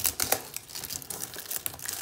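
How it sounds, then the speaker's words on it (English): Plastic shrink wrap being cut and peeled off a boxed set of Perry Miniatures Agincourt foot knights, giving close, soft crinkling and crackling with a few sharper rustles over two seconds, no voices. "So I got to get some scissors to cut that plastic off instead of ripping it off."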